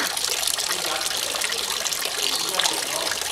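Water is poured while a child is bathed, making a loud, steady close-up splashing and gushing that fills the clip, with voices faintly present underneath.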